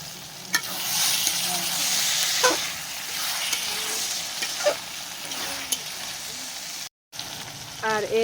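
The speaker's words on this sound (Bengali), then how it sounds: "এটা কিন্তু আরো ভাজা ভাজা করব, একদম শুকনা শুকনা করে তারপর নামাবো" Spring onion leaves frying with dried fish paste in a pan: a steady close sizzle broken by sharp scraping clicks of stirring, with no talk.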